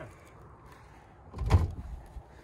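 A Cadillac car door is pulled with a single muffled thump and rattle midway through, moderately loud against a quiet background.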